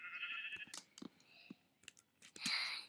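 Sheep bleat several times in a Minecraft-style block game, the short nasal cries mixed with clicks and game sound effects, fairly close and clear.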